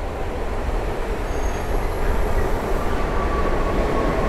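A 45 WE passenger electric multiple unit passes close by at Wrocław Nadodrze station, giving a continuous loud rumble of wheels on rails and a faint high squeal that swells slightly before easing.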